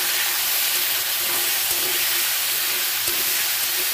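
Potatoes and flat beans fry in hot oil tempered with kalonji, giving a loud, unbroken hiss that holds evenly throughout with a few faint crackles and no talking.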